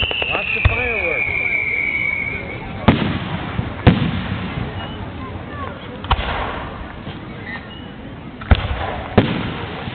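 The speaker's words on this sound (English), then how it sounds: "Watch the fireworks." Fourth of July fireworks in Bennington, with a rising whistle followed by a series of loud sharp bangs and crackling bursts over crowd noise, while people talk nearby.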